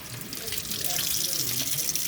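Warm tap water runs from a faucet over the roots of a potted orchid, a steady close splashing stream without a break.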